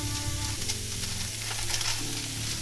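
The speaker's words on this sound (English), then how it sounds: "Does anybody else love that sizzle?" Two burger patties sizzle and crackle loudly in a hot pan, a dense continuous frying hiss with faint stirring scrapes.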